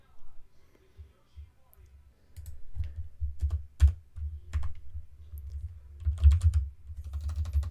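Computer keyboard typing in bursts of close, crisp key clicks, sparse at first and then denser and quicker, with no talking.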